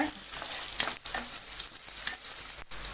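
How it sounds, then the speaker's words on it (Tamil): Finely chopped onion fries in ghee with cabbage, a close, steady sizzle broken by the scrape and clatter of stirring. "ஒரு பெரிய வெங்காயம் சின்ன சின்னதாக கட் பண்ணி வச்சுருக்கேன் அதையும் சேர்த்துக்கிறேன் அதையும் நல்லா கலந்து விடுங்க"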